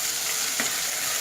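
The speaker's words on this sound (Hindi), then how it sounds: "अब मैं इसमें लहसुन अदरक का पेस्ट शामिल कर रही हूँ।" Garlic ginger paste added to golden browned onions in a pan, giving a steady close hiss of frying with a quick stir sound midway.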